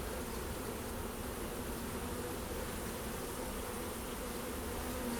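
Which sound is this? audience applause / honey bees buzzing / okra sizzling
honey bees buzzing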